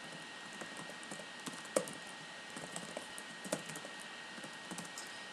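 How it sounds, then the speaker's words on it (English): Steady typing on a computer keyboard while code is entered for a programming challenge, with quick irregular clicks and a few louder keystrokes, close and alone with no talk. "So we'll go and type out the solution."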